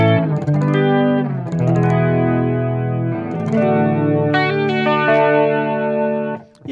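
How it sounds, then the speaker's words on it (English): Clean electric guitar chords and single notes ring out with a lush, shimmering Dimension Chorus effect through a Fender Twin amp model on a Headrush unit, played steadily and close, with no voices. "Yeah, I like the Dimension Chorus."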